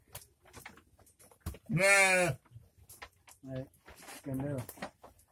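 Jawa Randu goats bleat in a traditional pen: one loud, wavering bleat and two shorter ones close by, with someone talking quietly between them.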